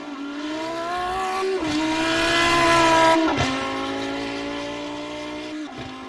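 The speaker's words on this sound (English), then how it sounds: "the Lamborghini, as ever, sounding glorious when it's changing gear and slowing down" Lamborghini GT3 race car in a racing game at Imola, engine note dropping in steps through downshifts as it slows, a loud continuous whining roar with brief breaks at each gear change.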